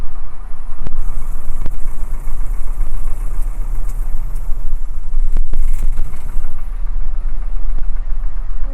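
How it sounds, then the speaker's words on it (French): A light aircraft piston engine idles on the ground after landing, held below 1000 rpm before shutdown, with a steady loud drone and a few sharp clicks along the way. "Le moteur inférieur à 1000 pour laisser coupure."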